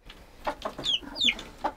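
Several baby chicks cluck and peep in quick, uneven bursts, close by with no talking.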